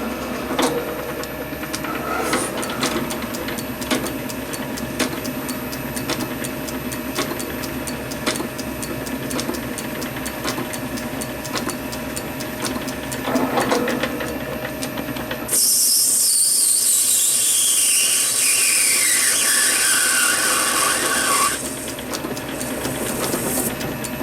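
A Myford lathe runs with a steady mechanical hum and a whining drone. About two-thirds of the way through, it gives way to a brighter, hissing sound with a long falling whine, then settles.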